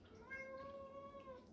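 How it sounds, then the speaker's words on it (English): A cat meows faintly in the background, one drawn-out tonal call lasting just over a second in a quiet indoor room. "I'm sorry if you can hear my cat just meowing in the background."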